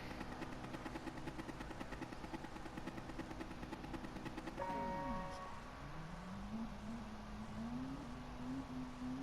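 Gran Turismo Sport race cars in an FIA Manufacturer Gr4 event rev their engines steadily, a dense droning layer of motors that then settles into one engine pitch climbing smoothly upward as it accelerates.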